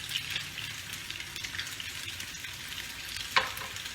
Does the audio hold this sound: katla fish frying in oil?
yes